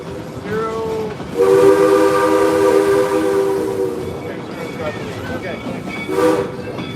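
A passenger train on a Colorado ride sounds a long, loud horn blast followed by a short second blast, over the steady rumble of the moving cars.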